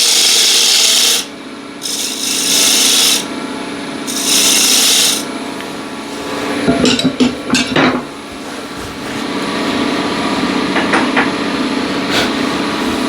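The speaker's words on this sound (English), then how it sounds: "Again, rough it out with the spindle gouge." Spindle gouge roughing out a maple lid on a wood lathe, a steady scraping rasp of the tool against spinning wood in bursts, with sharper cutting chatter mid-way and continuous motor hum beneath.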